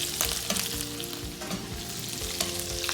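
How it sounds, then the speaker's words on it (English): Turkey breast sizzles steadily in a pan as it is basted with white truffle butter, a dense crackling fry with intermittent spoon clinks and sputters, no voices. "we're going to baste in the white truffle butter"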